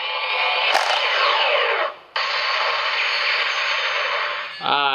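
Loud, buzzy electronic effect from a DX Kiraful Go Arrow toy bow, with sweeping tones, a brief cutout near the middle, then a rapid stuttering burst at the end.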